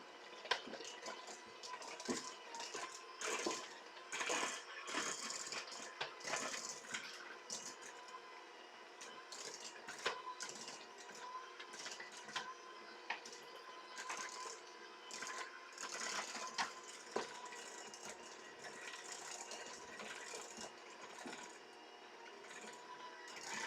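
An electric mixer churns sugar cookie dough while butter is added, giving a steady, busy whir with soft squishing and knocking textures that hold fairly constant throughout.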